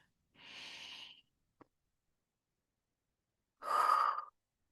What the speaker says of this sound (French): On va fermer les yeux donc et prendre ensemble 3 cycles de respiration.